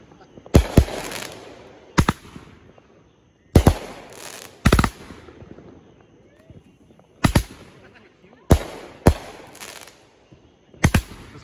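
A 500 gram Sky King fireworks repeater cake fires a series of loud booming bursts in spaced pairs and clusters, each followed by crackling, with people talking faintly between shots.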